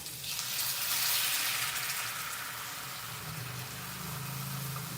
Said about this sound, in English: I added some water because we're gonna use everything that's in this bowl and we're just gonna pour it in there